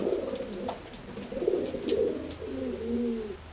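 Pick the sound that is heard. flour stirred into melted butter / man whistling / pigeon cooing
pigeon cooing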